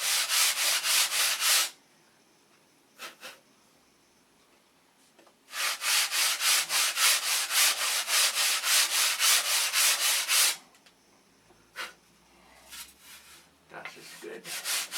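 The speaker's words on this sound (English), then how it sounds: "Well, I'm sanding." A wooden boat build gets hand-sanded in rapid back-and-forth strokes, close and loud, in two long bursts separated by quiet gaps and a few isolated strokes.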